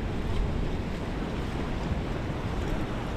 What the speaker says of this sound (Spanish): Está el mar calmadísimo y ahí hay periodo